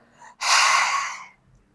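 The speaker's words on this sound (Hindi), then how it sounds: "सिर्फ श्वास भरना है और जीभ को बाहर निकालना है।" A single long, forceful inhalation through the mouth with the tongue stuck out, done as a yoga breathing exercise. It is close and loud, lasts about a second and starts after a brief faint breath.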